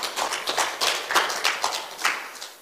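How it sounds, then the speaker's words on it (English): A church congregation claps in praise during a Sunday service, a quick run of moderately loud claps in an uneven rhythm, with no talking. "Can we give the Lord a hand clap of praise this morning?"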